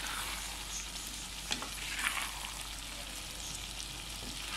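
Chickpeas and koftas sizzle in hot oil in a pan while a spoon stirs them, giving a steady close frying crackle with a couple of brief scraping clinks and no voices.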